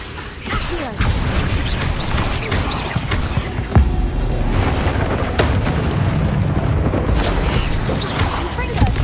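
Spell blasts and explosions in Hogwarts Legacy, a dense, continuous barrage of booming impacts and sharp bursts layered one over another without pause.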